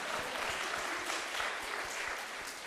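A church congregation claps during a Sunday worship service, a steady dense wash of applause from many hands filling the whole moment without pause.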